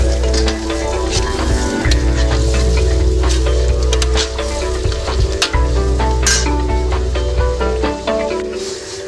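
Beef goes into boiling, sautéed ground spices for Acehnese nasi biryani, setting off a loud, steady sizzle and frying hiss with scattered stirring clinks throughout.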